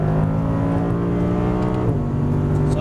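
Audi R8 pulling hard in second gear on a race track, a loud, continuous engine drone with rising harmonic tones heard from inside the car, a brief dip in pitch midway before it climbs again.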